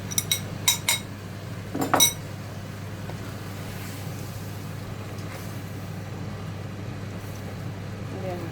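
A cornstarch mixture is stirred into tuna pasta in a pan, opening with a handful of bright metallic clinks of utensil against pan, followed by a steady, quiet background simmer.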